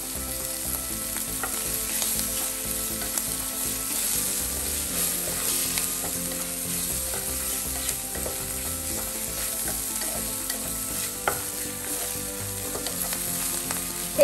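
Prawns and Chinese sausage stir-frying with fish cake for Penang char kuey teow, a continuous crackling sizzle in a hot wok with frequent spatula clanks and scrapes, close and steady throughout, no speech.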